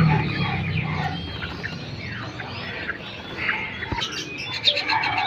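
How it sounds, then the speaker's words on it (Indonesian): Many caged birds chirp, coo and cluck together at a busy bird market, a dense, continuous chorus close by with clucking fowl and a few sharper calls rising above it. "Burung yang banyak nih"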